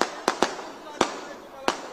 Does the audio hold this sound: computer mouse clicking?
no